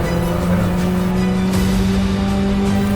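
Rally car on a special stage, engine revving hard with a steady high-pitched drone and tire noise, loud and close throughout, no voices.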